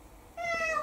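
A pet cat at home lets out a single short, clear meow after a moment of quiet, close and moderately loud.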